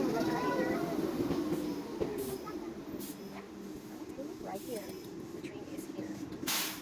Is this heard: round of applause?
no